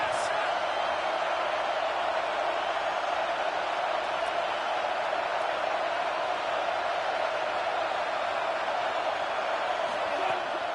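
A stadium crowd in a college football video game, Michigan versus UCLA, roars steadily on a third down in the red zone, a dense and constant wash of noise filling the whole stretch.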